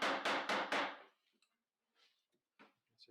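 A chisel is struck with a mallet while cutting a shaped through mortise in wood: four loud, evenly spaced knocks in quick succession, then a few fainter scattered taps and scraping sounds.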